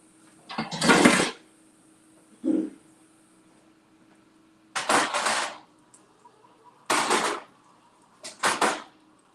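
Several separate metallic clanks and knocks, spaced a couple of seconds apart, as heavy metal stove burners are set down on a stove, with a faint hum between them.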